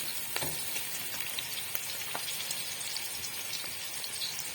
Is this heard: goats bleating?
no